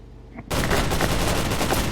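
Shotgun fire in the video game True Combat: Elite, a sudden loud burst breaking a quiet moment and rolling into sustained, dense gunfire that stays heavy and close until the end.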